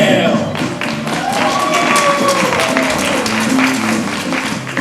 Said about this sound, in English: Let's have a nice round of applause for Greg Lonsdale!